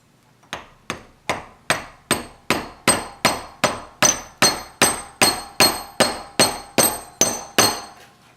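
A hammer taps a bushing into the cam sensor of a 1987 Buick Grand National, about seventeen sharp, evenly spaced metallic strikes, close and loud, with no talk.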